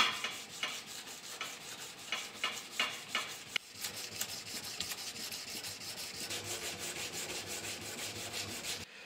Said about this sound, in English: Time to hand sand.